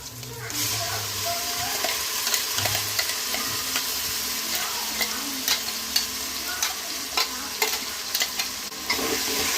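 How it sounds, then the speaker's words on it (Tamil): Ginger garlic paste sizzles steadily in hot oil for a country-chicken biryani, a continuous frying hiss broken by scattered stirring scrapes and clinks throughout. "இஞ்சி பூண்டு பேஸ்ட் போட்டுக்கலாம்."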